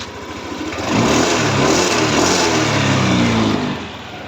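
A Yamaha NMAX 155 scooter engine starts and settles into a steady idle, then is revved up briefly for a few seconds before easing back down, close and fairly loud with no talking.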